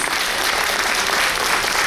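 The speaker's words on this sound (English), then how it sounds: "Give them a big round of applause." Cruise ship audience applauding lecturers, a dense steady wash of many hands clapping together, brief and continuous.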